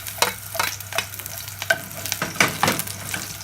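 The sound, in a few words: garlic frying in hot coconut oil in a pan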